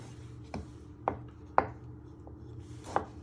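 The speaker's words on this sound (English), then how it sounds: "we're just going to keep chopping our tomatoes" A kitchen knife chops tomatoes on a cutting board for a chicken and chorizo ragu: four sharp, evenly spaced strikes, close and crisp, over a low steady background hum.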